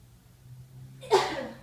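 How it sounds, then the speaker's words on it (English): A single sharp sneeze bursts out after a quiet stretch, close and fairly loud, with a breathy trailing tail. "Sorry, sneezing here."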